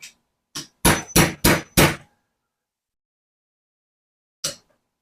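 Several sharp metallic taps of a hammer driving out a pin from an HW30s air rifle ring out in quick succession, four strong strikes in a row after a lighter one, then a single tap after a pause.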